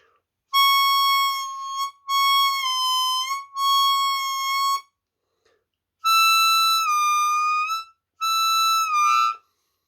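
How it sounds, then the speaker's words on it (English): Seydel Classic harmonica playing hole 7 blow bends, five sustained clear tones with pitch dips, in two groups separated by a short pause, loud and close with no talking. "Hole 7, the blow bend."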